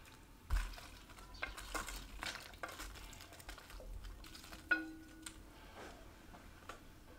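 Fried fish chunks go into a seasoned braising sauce in a pan, making a few soft thuds and clinks followed by quiet stirring and faint sizzling, low and close, with no voices.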